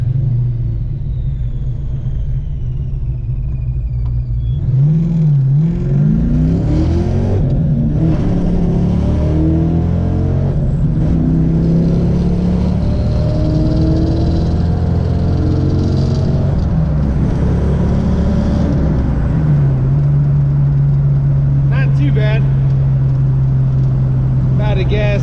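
Budget Ford Foxbody on a street test hit with a fake supercharger, its engine idling heavily, then revving hard and pulling away in rising gear sweeps, loud and close, before settling back to a steady drone while people talk.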